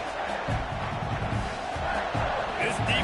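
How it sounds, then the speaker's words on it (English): Stadium crowd noise from the Madden 26 American football video game, a steady roaring cheer of spectators near a goal-line play, sustained and fairly loud throughout with no pauses. "the crowd's giving them some juice"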